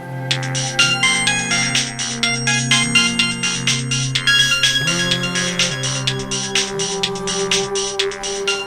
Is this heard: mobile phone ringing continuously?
yes